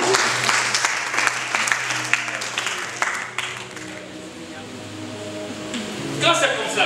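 A church congregation applauds in acclaim of the Lord, a dense wash of clapping that swells and then fades out, with voices and a sustained musical tone beneath.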